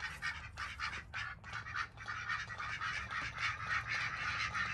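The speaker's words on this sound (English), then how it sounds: "if you guys are wondering what's all the duck noise over there" Ducks quack steadily in repeated nasal bursts, a busy flock fairly close by with no talking.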